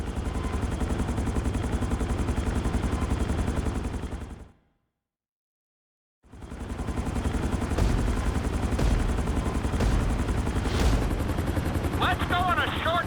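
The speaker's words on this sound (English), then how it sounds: "we're going to put you in a helicopter for this lesson" Helicopter rotor and engine noise from a GTA 5 flight school lesson, a loud steady drone that cuts out briefly to silence midway and then resumes, with a few higher game sound effects near the end.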